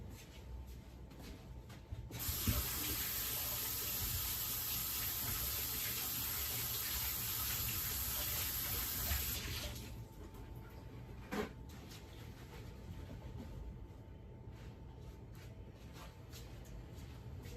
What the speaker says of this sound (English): let me just rinse my hand.